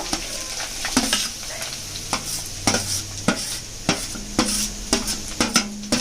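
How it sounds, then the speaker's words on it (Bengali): Grated coconut fries in ghee in a wok, a soft steady sizzle broken by repeated sharp scrapes and taps of a spatula stirring against the pan, close and clear. "কড়াতে ঘি দেব। ঘিয়ের মধ্যে এবার আমি নারকেলটা দিয়ে দেব।"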